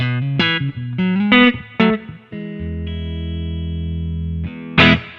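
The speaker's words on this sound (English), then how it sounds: "it can go pretty far in reverb, but it's so smooth" A distorted electric guitar played through a new amp with smooth reverb: several loud chords and short riffs, then one sustained chord that rings out, ending with a final struck chord.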